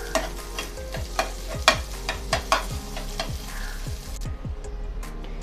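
A bhurji-style mixture being stir-fried in a pan, with a steady close sizzle under repeated scraping strokes of a spatula, about ten in a loose rhythm, and no talk.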